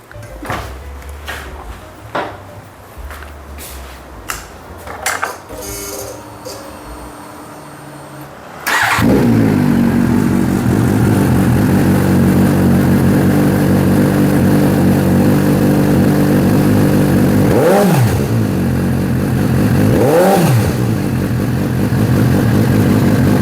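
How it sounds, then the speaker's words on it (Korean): Clicks and clatter come first, then a Suzuki S750 four-cylinder motorcycle engine fires up and idles loudly and steadily, with two brief throttle blips near the end. "이번에 시동을 켜서 배기음을 들어보겠습니다"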